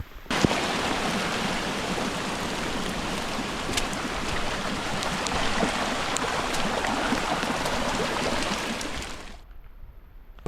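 A flooded bush creek swollen by heavy rain roars as a dense, loud, continuous rush of water close by, cutting off abruptly near the end.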